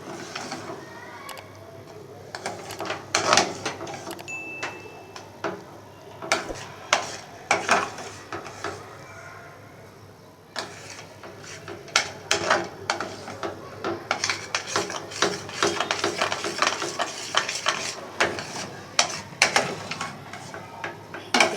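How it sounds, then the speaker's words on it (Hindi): A spoon repeatedly scrapes and stirs thick besan halwa in a metal pan, making steady clinking, scraping strokes that continue for about twenty seconds with brief pauses. "चमचा में इस पे मुस्तकिल चलाना पड़ता है ताकि गुठलियाँ ना बने इसकी"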